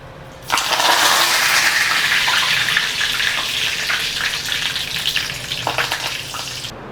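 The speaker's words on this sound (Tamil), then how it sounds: "இந்த கருவேப்பிலையே கொஞ்சம் அதில் பொறிச்சு போட்டுக்கலாங்க" Snake gourd pieces and curry leaves frying in hot oil for a Pudalangaai 65 dish, giving a loud, continuous crackling sizzle that starts abruptly and gradually settles into softer popping, with no voices.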